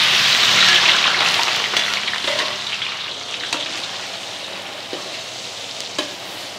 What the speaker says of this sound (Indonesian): Kita tumis dulu bawang putih dan bawang merah berbarengan saja ya.